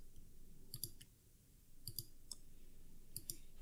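Computer mouse clicks sound faint and close, arriving as small paired clicks in three quick bursts over a low room hum while a web page is being worked on.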